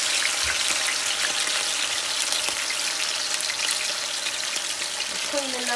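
Seasoned chicken frying in a pot for Jamaican stew chicken, a loud, steady hiss of sputtering oil throughout, with a short voice at the end.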